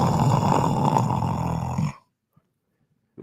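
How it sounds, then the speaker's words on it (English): A man snores loudly for about two seconds in an office during a morning broadcast, a rough, rattling single inhale, followed by near silence with a couple of faint distant clicks. "Who's snoring in here?"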